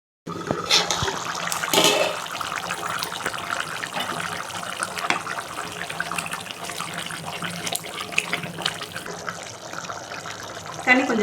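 A pot of water comes to a boil for chicken dum biryani with soaked old rice, giving a steady bubbling, rushing hiss close by that runs through the whole stretch with occasional louder surges and soft talk in the background.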